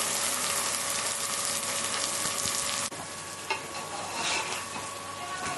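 Masala spices for a mutton dalcha sizzle steadily as they fry in a pan, with stirring scrapes breaking through the even, close hiss; a brief clatter interrupts the sizzle midway.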